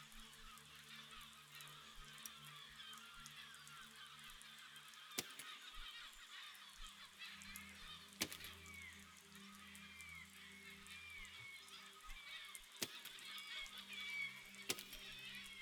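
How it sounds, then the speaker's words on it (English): Geese honking in a flock, repeated nasal calls overlapping steadily throughout, with a few sharp knocks and a low hum underneath. "Let's see if these birds fly right through them"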